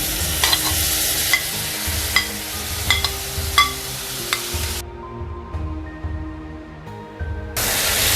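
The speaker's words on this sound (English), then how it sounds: "Let this saute well for 5 minutes" Mutton pieces sauté in a pan with masala, a close steady sizzle and hiss broken by periodic scraping stirs and clinks, with one stretch where the high sizzle drops away before returning.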